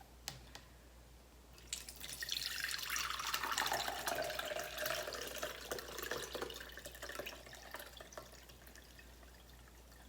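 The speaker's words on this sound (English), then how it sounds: "So I'm gonna strain it." Heavy homemade fire cider is poured through a strainer, starting as a few drips before swelling into a steady, splashing stream of liquid that runs for several seconds and then thins out.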